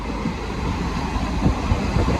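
A train rumbles through a tunnel, a heavy low droning roar with faint rhythmic clatter from the wheels, steady and enclosed, with no talking.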